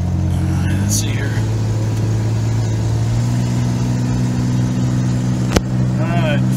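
A Ford Ranger pickup truck engine drones while driving, its pitch climbing partway through as it pulls, with a sharp click near the end and faint voices in the cabin.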